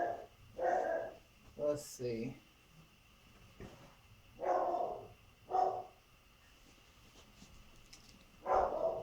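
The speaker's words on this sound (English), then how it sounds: "There's my dog barking." A dog barks indoors in several separate bursts of two or three barks, moderately close, while someone assembles a SOLE Fitness R92 recumbent exercise bike and speaks briefly.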